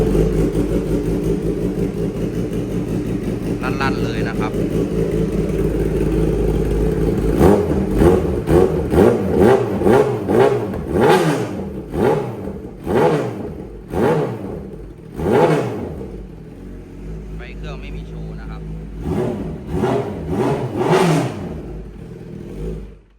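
A 2016 Kawasaki ZX10R ABS with a loud aftermarket exhaust idles roughly, then is revved in a fast series of sharp blips, settles, and is blipped again in a shorter burst, close and loud with no talking.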